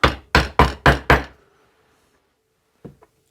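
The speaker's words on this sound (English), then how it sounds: "I use a hammer, excuse the noise" A hammer striking a tool to cut through material: five loud, sharp blows in quick, steady succession, close by, then a pause and a couple of faint knocks.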